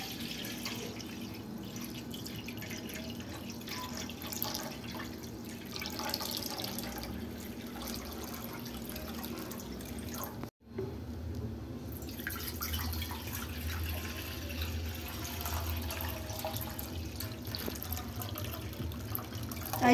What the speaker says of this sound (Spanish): Le ponemos el agüita a la cazuela más arriba de la mitad.